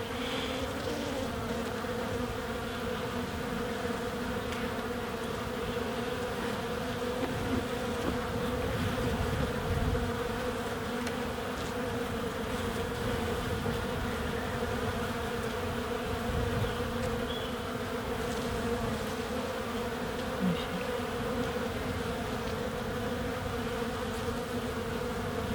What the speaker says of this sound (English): There's a nice lot of bees in here now, Lynn.